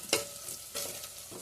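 Food sizzles and is stirred in oil in a pan over raised heat in a home kitchen, with soft continuous frying hiss and a few scraping stirs close by, no voices.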